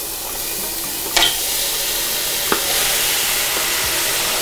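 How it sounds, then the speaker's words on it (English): Goat meat for curry goat sizzling in a hot pan: a steady, bright crackling hiss with a couple of sharp clinks from a utensil, no voices. "You should start to hear the sizzle."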